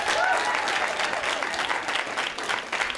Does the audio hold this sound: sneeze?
no